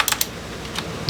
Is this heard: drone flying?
no